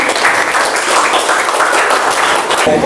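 An audience claps after a class presentation at a university, dense and continuous applause that stays loud throughout before easing slightly at the end.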